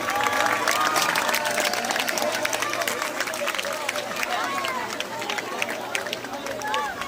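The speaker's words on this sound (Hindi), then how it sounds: "जोरदार तालियों से स्वागत" At a school career fair, a crowd breaks into loud, sustained clapping that holds steady across the whole stretch, with voices mixed in.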